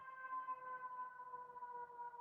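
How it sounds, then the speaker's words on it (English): A distant siren holds a steady, drawn-out wail from outside, faint but clear over quiet room tone. "There's just like a loud siren outside"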